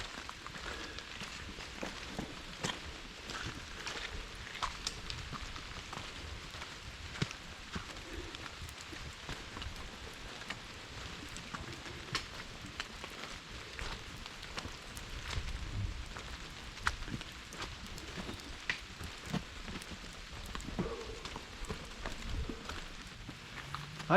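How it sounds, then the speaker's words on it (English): Rain falling steadily on a hiking trail in the Appalachian mountains of Virginia, a soft continuous patter with scattered footsteps and faint background noise. "It's only raining now instead of pouring."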